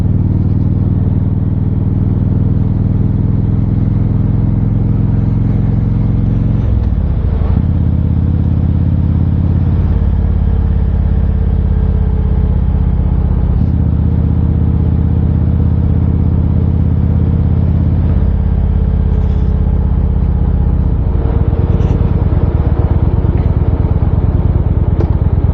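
Motorcycle ridden with the helmet visor fully open: loud, steady engine drone and heavy wind rumble close to the rider, with the pitch shifting as the engine revs rise and fall between gears.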